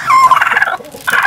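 A broody hen sitting on a nest with no chicks and only a stray egg gives a loud, close, brief throaty call in two short bursts.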